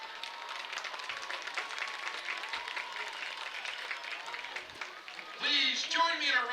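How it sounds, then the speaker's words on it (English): Crowd applause for a high school homecoming court at a football game, a steady spread of clapping heard from a distance that grows louder and closer near the end. "Please join me in a round of applause"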